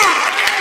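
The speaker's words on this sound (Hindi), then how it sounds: "तो एक बार जोरदार तालियां बजा दीजिए।" Brief burst of audience applause at a live comedy show, dense clapping filling the short moment with no talk over it.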